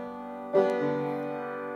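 Piano chords with the left hand held down while the right hand pulses a chord; a struck chord rings on and decays steadily, close and clear, with no talking.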